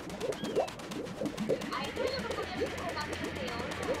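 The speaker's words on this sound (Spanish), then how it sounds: "Me voy a dejar que el pájaro se vaya." Soft, repeated cooing of a bird in the video game Super Mario Odyssey, a series of low, rhythmic coos heard faintly under game noise and ambient sound.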